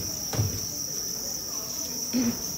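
Crickets at a cricket farm chirp in a dense, continuous high-pitched trill, steady and fairly loud throughout, with a couple of soft low thumps underneath.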